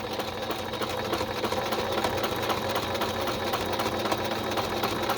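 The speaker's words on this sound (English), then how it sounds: "So first I'm sewing all of this around so that it's closed up together." A sewing machine runs steadily while stitching around the edges of a fabric folder pocket cover, giving a continuous close mechanical whirr with a fast rapid needle rhythm and no pauses or voices.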